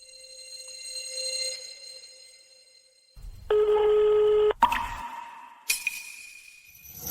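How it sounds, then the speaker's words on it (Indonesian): A phone placing a call: a steady electronic tone, then a loud, flat ringback burst and a couple of sharp clicks, heard clearly without talking. "Aku akan telepon orang tuaku sekarang."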